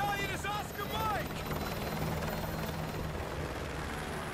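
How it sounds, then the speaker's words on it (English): Helicopter rotor thrum from the Call of Duty Modern Warfare 2 Remastered video game, a steady continuous drone filling the whole clip, with brief synthetic chirps and game sounds near the start. "I'll brief you on the chopper."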